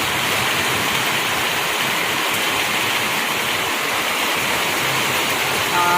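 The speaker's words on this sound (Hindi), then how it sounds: "बारिश हो रहा है और पानी देखिए, बारिश बहुत ज़्यादा हो रहा है।" Heavy rain pours down steadily outdoors, with water everywhere, as a dense, continuous wash of hiss and splatter that stays at one even, loud level throughout with no pauses.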